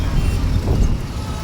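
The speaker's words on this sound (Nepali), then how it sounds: "अलिक गाडीको आवाज अलिक धेरै छ" Traffic on a highway in Nepal roars as a loud, continuous low rumble mixed with wind buffeting the microphone, with no separate passes standing out.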